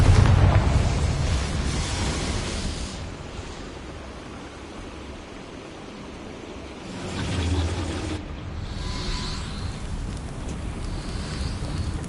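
A Confringo fire spell goes off in the Hogwarts Legacy video game with a loud, broad rumbling burst at the start, then a lower stretch and a second roaring swell partway through, all with no talk.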